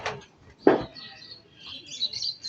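Birds let out of a cage chirp in short sharp calls, one loud close tweet then fainter twittering farther off, over a quiet outdoor background.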